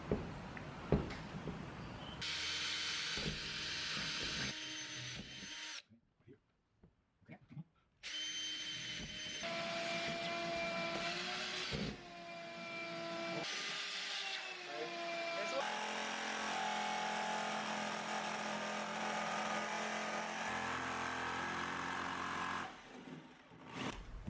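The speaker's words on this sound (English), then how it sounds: "used a jigsaw to cut out the hole" A jigsaw cuts a hole in the metal ceiling of a Ford Transit Connect van, a loud buzzing whine that stops and restarts. The metal rattles while people talk over the cutting.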